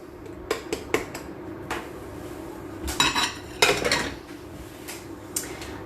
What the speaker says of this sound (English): And you just want to fold that until it's all combined.